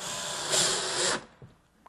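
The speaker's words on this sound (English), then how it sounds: "drill these screws in" A close power drill whines steadily for just over a second driving screws into a melamine drawer box, then cuts off, followed by a few faint knocks.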